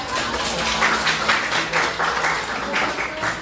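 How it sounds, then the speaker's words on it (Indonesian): A small group at the close of a class session claps steadily, a dense patter of applause with faint voices underneath, moderately close. "Tepuk tangan buat kita semua"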